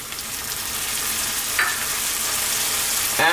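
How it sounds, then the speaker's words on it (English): Tuna frying in a hot pan gives a continuous, close sizzle, with two brief bursts of stronger crackle as more goes in, alone without speech. "Now what we're going to do is drop in our tuna"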